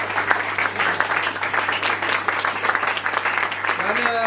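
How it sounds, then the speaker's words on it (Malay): A school audience at a STEM event at SMK Mat Kilau applauds the UMPSA university scientists with a thunderous burst of dense clapping over a low electrical hum. A voice starts up as the clapping continues at the end. "berikan tepukan gemuruh kepada UMPSA"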